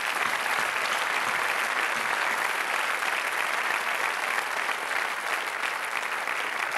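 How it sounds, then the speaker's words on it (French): Dense, steady audience applause fills a Paris comedy show at the Casino de Paris, a continuous wash of many hands clapping at even loudness throughout, with no voices over it. "mon ami d'enfance, Jean-Philippe Bouchard, on peut l'applaudir."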